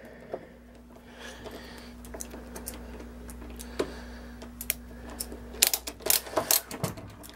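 Small mechanical clicks and ratcheting ticks come from screws being tightened while a computer power supply is installed, close and fairly quiet, with denser, louder clicks toward the end.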